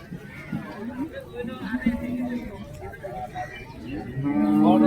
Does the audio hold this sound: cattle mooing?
yes